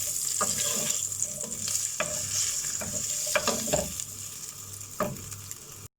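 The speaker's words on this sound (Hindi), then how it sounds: "चिकन में ब्लैक पेपर और नमक डालकर इसको ज़रा सा फ्राई कर लेंगे।" Chicken seasoned with black pepper and salt fries in a street-food pan, a steady loud sizzle broken by repeated sharp scrapes and clanks of a spatula stirring the meat, with no talking.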